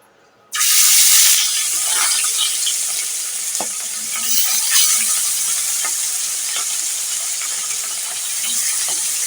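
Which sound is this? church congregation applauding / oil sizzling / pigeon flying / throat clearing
oil sizzling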